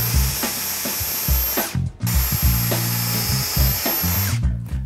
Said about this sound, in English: I've put a bit of tape around the drill bit. We're going quite deep with this